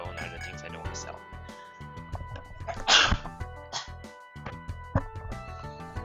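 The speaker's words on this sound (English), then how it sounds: "Sorry for the huge sneeze." A loud, sudden sneeze bursts out close to the microphone in the middle of a stretch of talk, with video game music playing underneath throughout.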